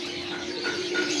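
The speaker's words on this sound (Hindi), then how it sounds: "ये परिंदा जो अली भाई ने पकड़ा हुआ ना, प्योर खालस हीरा लाल कबूतर है" A pure Khalas Heera Lal pigeon, held in hand, gives a soft low cooing, faint and close, with a steady background hum.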